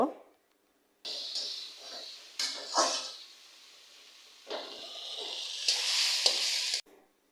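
Kalmi greens (water spinach) cooked with garlic being stirred in a pan, with scraping and sizzling bursts that come and go, some close and loud, separated by brief pauses.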